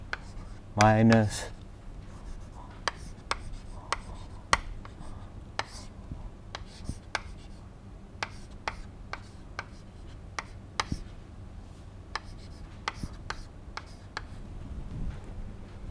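Chalk or marker scratching and tapping on a board during a lecture, faint intermittent strokes and clicks under a man's quiet speech.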